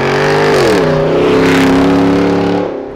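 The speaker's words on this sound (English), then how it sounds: "So I did get the Corsa Extreme exhaust, and it is definitely extreme." A 1999 Plymouth Prowler with a Corsa Extreme exhaust revving, a loud, close engine roar with pitch dropping and holding as the revs settle, no talking.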